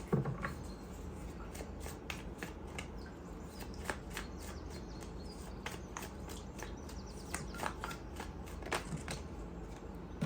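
Tarot cards are shuffled close up, a fast run of soft riffling flicks and slaps with no talking.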